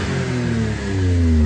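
A kei truck engine revs up and holds a steady, rising drone, running without its intake fitted, loud and close with no talking over it.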